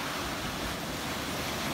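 Sea waves churn during a day dive trip in Barangay Linao, a dense, steady wash of surf noise mixed with wind rumble on the microphone, loud and unbroken, with no talking.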